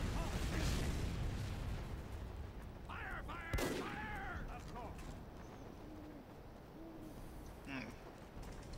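Rocket explosions and gunfire in a Team Fortress 2 match on Gold Rush: several sharp blasts and bursts, with one strong crack in the middle, mixed with game noise and a player talking.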